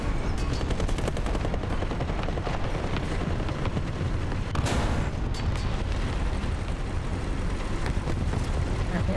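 Tank cannon and machine gun fire in the War Thunder video game: a loud, dense, nearly unbroken barrage of rattling bursts and heavy rumble, with one sharper blast near the middle.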